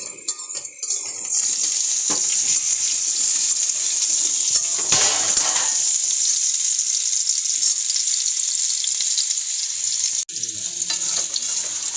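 Potatoes fry in a pan with a loud, continuous sizzle that holds steady at close range. Stirring scrapes and a few metal utensil clinks come at the start and end.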